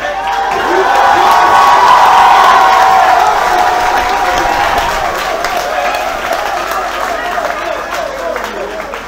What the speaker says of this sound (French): N'applaudissez pas trop fort